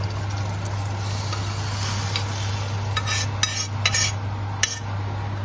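A spoon stirs green peas masala in a pan, giving a few faint scraping clinks late on over a steady low hum.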